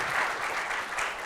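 Audience applause welcoming a speaker at a CMU graphics colloquium, a steady wash of clapping from a room of listeners, brief and even in loudness.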